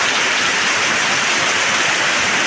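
Heavy rain pouring down in a steady, dense hiss of water on surfaces, loud and close throughout with no let-up.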